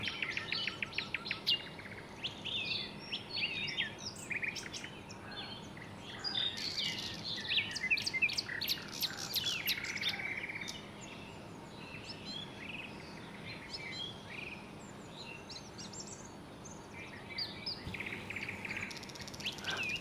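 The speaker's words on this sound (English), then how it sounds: "The beautiful birds whose songs were the fabric of the forest." Birds sing in a forest, with many overlapping chirps, trills and tweets at close and middle distance over a steady hiss of insects, busiest in the first half and then sparser.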